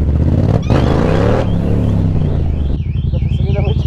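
A Ferrari engine roars and revs loudly close by, the pitch rising and falling through a few throttle blips, then settles into a steadier rumble as the car pulls away.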